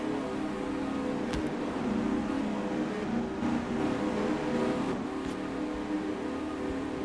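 Race cars racing on the Atlanta oval, a steady dense engine roar that swells as cars pass, with a couple of sharper sweeping passes standing out near and loud, and no talk.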